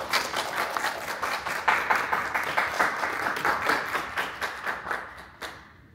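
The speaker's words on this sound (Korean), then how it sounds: "큰 박수로 맞이해 주십시오." A symposium audience at a Korean medical and bio journalists' event claps to welcome the host association's president to the podium; moderately close, rhythmic clapping from a modest crowd that thins and fades out at the end.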